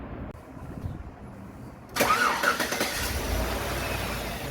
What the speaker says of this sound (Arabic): السيارة اشتغلت